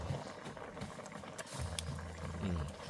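Thai eel soup simmering at a rolling boil in a pot: steady close bubbling and popping with a low gurgling hum, constant throughout, no talking.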